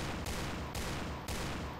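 Dense, continuous automatic gunfire fills the clip, with a few sharp breaks where new bursts start, loud and close like game combat audio, from the video game Point Blank.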